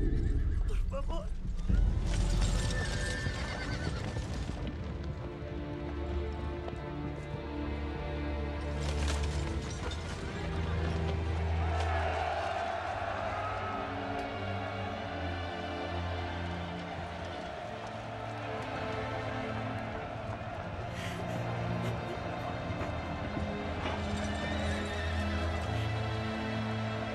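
A white horse whinnies loudly and its hooves clip-clop across a 1999 Joan of Arc battle scene, the neighing rising over a dense background of film score, crowd noise and a spoken voice.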